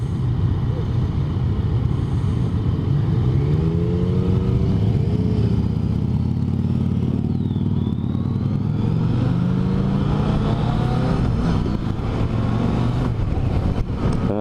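Yamaha XSR900 motorcycle engine droning steadily while riding in a group behind a leader on the same bike, a continuous loud hum with wind rush and shifting engine tones throughout.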